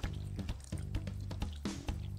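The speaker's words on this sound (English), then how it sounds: "put my foot on the pedal, and I just give it a push, and I have to pump it about 4 times for a complete hand rinse cycle" Water from a foot-pump hand wash on a Yitahome Porta camping toilet spurts and drips in short pulses, close and fairly loud, with brief gurgling squirts.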